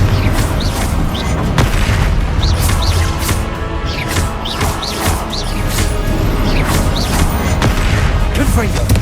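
Confringo fire-spell explosions in Hogwarts Legacy go off one after another as loud booms and crashes under dense, cluttered battle noise.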